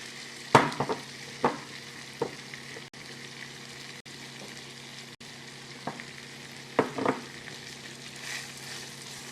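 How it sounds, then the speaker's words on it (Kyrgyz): Onions fry in a hot pan with a steady low sizzle, broken by several sharp clatters and stirring knocks from utensils, up close with no talking. "Пиязды дагы кууруп алабыз жакшылап."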